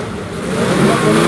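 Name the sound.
Alpine race car accelerating away at a historic hill climb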